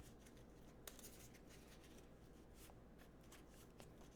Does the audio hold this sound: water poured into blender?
no